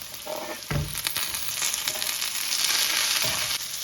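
Spices, including fennel seeds, sizzle steadily in hot oil while a potato roti filling is cooked, with a sharper burst of crackling near the start and no talking.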